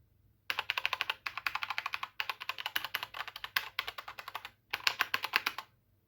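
A Ziyou Lang T60 compact mechanical keyboard with red switches is typed on up close, giving rapid, even bursts of clacking keystrokes with short pauses between runs and no talking.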